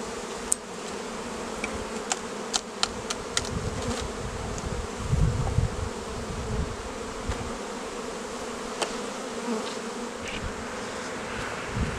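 Honeybees hum in a dense, continuous buzz around an open hive box of an overwintered colony during spring inspection, with occasional clicks and knocks of frames and equipment nearby, close and without talking.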